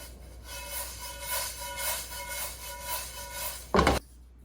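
Whole black peppercorns and spices toast in a dry pan for pastrami seasoning, giving a soft, steady rustling and scraping, with a brief louder clatter near the end.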